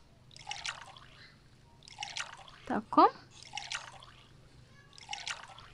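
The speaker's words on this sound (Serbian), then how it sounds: "Da uzmem vaše flašice. Sipam. Ovo ću sipam." A cartoonish liquid-pouring effect plays in the Toca Life World video game as milk is poured into baby bottles: a short bubbly gush near the middle amid soft repeating game chimes, with someone talking over it.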